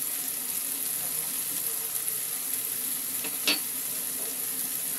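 Turmeric being fried into a mushroom masala, a steady soft hiss of frying with one brief stirring clatter midway.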